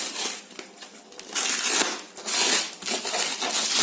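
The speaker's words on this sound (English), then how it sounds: "now I'm going to unbox it" Packaging for an F&D A140X speaker set crinkles and crumples during unboxing, in close, bursty rustles of plastic and cardboard that swell and fade over a few seconds.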